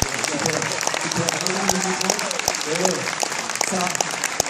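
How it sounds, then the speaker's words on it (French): An audience applauds after a demonstration of a clever method for dressing a person without hurting their limbs, steady clapping filling the room under a few voices talking over it. "Applaudissements."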